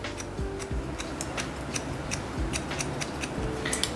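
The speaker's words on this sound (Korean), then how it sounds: "가위가 좋아서 그래요" Scissors snipping while cutting and thinning curly hair in a salon, a series of close, crisp metallic clicks in an irregular rhythm over quiet room noise, with no talking.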